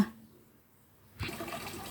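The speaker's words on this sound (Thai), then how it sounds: "นี่น้ำตกของเรานะ" A small, newly built garden waterfall in a rural setting starts up partway through, its steady rush of falling water suddenly loud and continuous after a near-silent opening.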